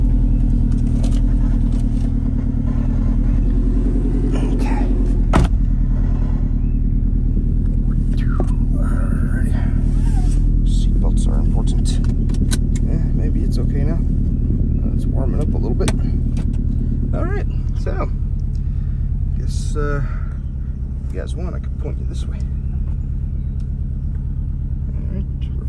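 A 2018 Subaru WRX STI tuned to about 430 hp rumbles with a low, steady engine drone while driving, heard from inside the cabin with occasional clatter and soft voices.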